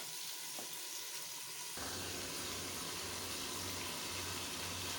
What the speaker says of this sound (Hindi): इसे थोड़ा सा भूनते हैं अभी।